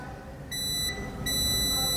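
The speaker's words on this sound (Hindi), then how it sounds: "बजर मोड जो हमारा बीप का साउंड उस पर रख देने का है" Multimeter in continuity mode testing a push button's normally closed contact: its buzzer gives two steady, piercing electronic beeps, one short and one longer, over a low background hum.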